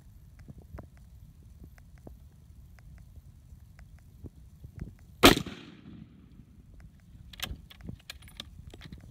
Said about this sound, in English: He'll put that bullet dead center in the wet pack and we'll see what happens.